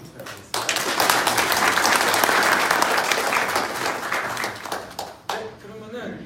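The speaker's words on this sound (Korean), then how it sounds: "발표해 주신 카미야상과 전병수 대표님께 박수 좀 부탁드리겠습니다" Audience applause at a business seminar on expanding to Japan, a dense, steady burst of clapping from a room of attendees lasting several seconds before tapering off, with a brief voice near the end.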